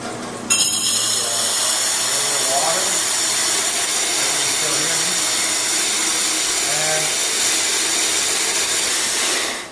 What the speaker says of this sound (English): I drill them out with a diamond core drill bit